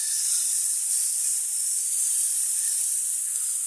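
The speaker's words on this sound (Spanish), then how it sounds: "lo llevamos a la parrilla bien calentita" Beef rump cap searing on a hot grill, a steady bright sizzling hiss held evenly throughout, close and alone with no talk.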